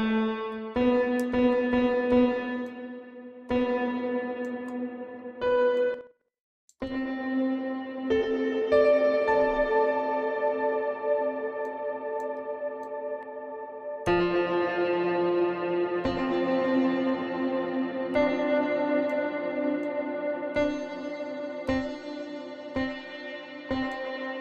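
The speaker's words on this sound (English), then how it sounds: "now let's have a listen to the digital reverb." Guitar notes and chords played through the digital reverb mode of a GSi TimeVerb-X pedal, with sustained tones washing into long, smooth decaying tails, steady and close, interrupted by a brief pause near the middle.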